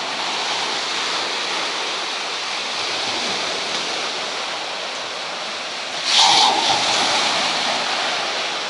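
Ocean surf washing steadily onto a wild beach in Iran, a broad continuous roar with a brief louder surge partway through, heard alone with no talking.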